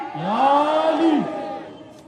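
A single loud, drawn-out voiced call with a rising then falling pitch, the kind of religious slogan shouted at a Muharram gathering for Imam Hussain, rings out close for about a second and then fades.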